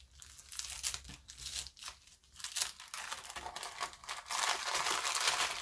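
A paper package of stickers is opened up close with bursts of crisp crinkling and tearing, quiet at first and then building into denser, louder rustling toward the end, with no speech.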